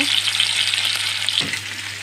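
Pieces of shol fish fry in hot oil, giving a loud, steady sizzle that crackles throughout, with a short stirring scrape partway through and no talking.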